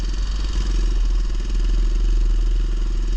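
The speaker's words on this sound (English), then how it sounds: "This bike is so loud" A loud 500 motorcycle engine fitted with huge tires runs close by, a steady throbbing rumble with rapid pulsing firing beats and mechanical clatter, no voices.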